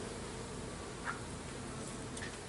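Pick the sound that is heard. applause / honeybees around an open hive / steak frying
honeybees around an open hive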